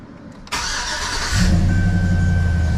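A 2005 Chevy Silverado engine, freshly fitted with new spark plugs, wires and coils, cranks briefly with the starter whirring, then catches and settles into a loud, steady idle close by.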